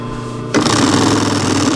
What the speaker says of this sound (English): In case you're wondering, this is called a post bed machine.